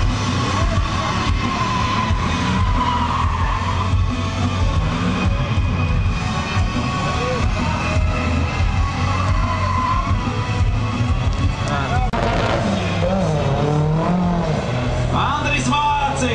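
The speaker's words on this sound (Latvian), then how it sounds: "Vienīgais Porsche šajās sacīkstēs Feliks Palovs ar Porsche 924." A Porsche 924 drifts at a drift show, with a loud, continuous engine roar and rising and falling whines as it slides. A commentator speaks over the noise.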